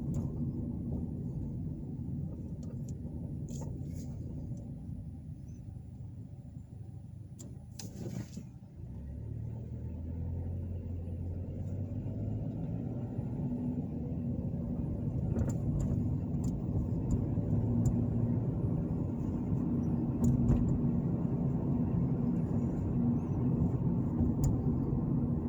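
A car driving through downtown Lewisburg, Tennessee, its steady low engine and road rumble continuing throughout with a few passing noises in the background.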